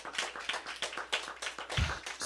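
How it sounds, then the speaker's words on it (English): After a student's song at a spring choir program, the audience gives a brief, faint round of applause, a few scattered soft claps that are thin and distant. "So another round of applause for Jaden."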